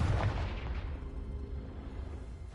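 A Confringo blast spell from Hogwarts Legacy bursts with a heavy boom, then trails off into a fading rumble with no talking.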